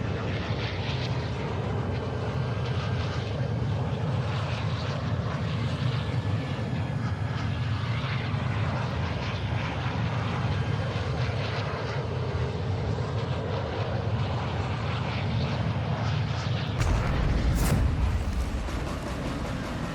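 Airplane engine in the Call of Duty Warzone 2.0 video game, a loud continuous droning roar that holds steady for most of the stretch, then breaks off abruptly near the end into a different rushing noise.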